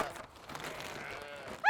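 Sheep bleat on a British farm ahead of lambing, a dense chorus of overlapping calls with one sharper bleat rising loud and close at the end.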